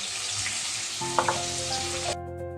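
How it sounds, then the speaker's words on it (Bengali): Mixed vegetables frying in a pan as they are stirred with salt and turmeric, a continuous close sizzle with a couple of light stirring knocks before it suddenly cuts off. "আর নুন হলুদ আমি একটু নেড়ে চেড়ে নিচ্ছি"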